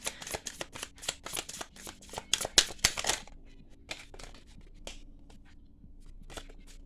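Tarot cards are riffled and shuffled in quick, crisp bursts for about three seconds, then a few softer, scattered card flicks and taps follow in a quiet room.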